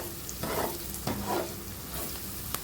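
Onions seasoned with salt and turmeric fry in a pan for a cauliflower dish, a steady close sizzle broken by a few scraping stirs of a spoon, with no talking.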